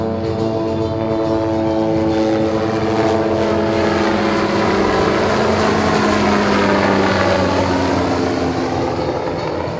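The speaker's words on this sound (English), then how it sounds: "here comes the MD-530G Scout Attack Helicopter to engage targets number 6 and 8" An MD-530G Scout Attack Helicopter at a live-fire exercise roars steadily and loudly for about ten seconds, its dense rotor and engine noise layered with humming tones that shift slightly in pitch as it approaches.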